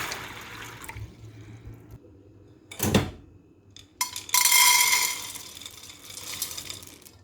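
Beans being washed in water by hand in a pot, with sloshing and swirling water, a sharp splash near the middle and a louder pour of rushing water later, close and alone.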